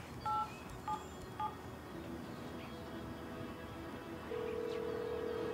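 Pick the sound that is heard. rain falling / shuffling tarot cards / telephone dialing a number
telephone dialing a number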